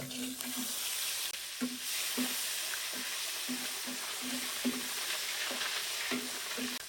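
Shrimp frying in a pan for a fish curry gives a steady, close, loud sizzle throughout, with soft periodic knocks from stirring at regular intervals.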